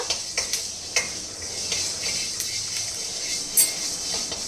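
Mustard seeds and fenugreek crackle in hot oil for tomato saaru: sharp, irregular pops and ticks close by over a soft sizzle, with no talking.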